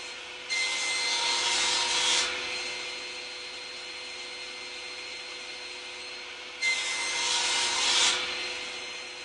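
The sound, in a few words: pantorouter cutting slots in wood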